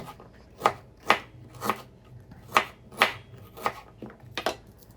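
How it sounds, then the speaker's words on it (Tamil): A knife chops a piece of ginger into small bits on a board, eight or nine crisp, evenly spaced cuts close up with quiet gaps between them. "இஞ்சி ஒரு துண்டு இஞ்சி எடுத்து நம்ம சிறுசு அந்த மிக்சியில் அரைக்கிற மாதிரி கொஞ்சம் சின்ன சின்னதாக வெட்டி சைடில் வச்சுக்கலாம்"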